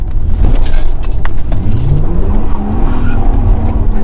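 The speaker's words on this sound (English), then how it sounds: "You need to do a U-turn in this car, and the best way to do it is with the e-brake." A cheap Lexus IS200 bought from Copart does a handbrake U-turn. The engine revs loudly up close while the tyres skid and squeal in rising, wavering tones.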